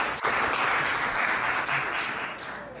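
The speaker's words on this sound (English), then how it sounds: "Give a round of applause for Quinn West, everybody." Audience at an open mic night applauding a newcomer performer, a short burst of clapping and cheering that swells quickly and then gradually fades away.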